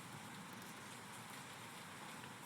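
Rain falling steadily in a video game scene, a continuous soft hiss of drops on a surface, even and unbroken at low level with no voices.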